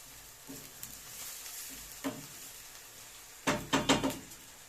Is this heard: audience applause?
no